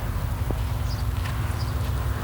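A horse walking through a dressage arena during lateral work, its hoof falls a soft, steady clip-clop beneath constant low background rumble, with no talking.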